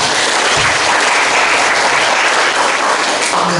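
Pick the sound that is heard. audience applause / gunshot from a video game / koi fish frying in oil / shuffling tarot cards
audience applause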